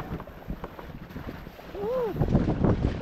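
Strong wind buffeting a small boat at sea in a heavy northeast monsoon, a steady roaring rush that swells louder toward the end, with spray and water splashing and a brief voice-like whine in between.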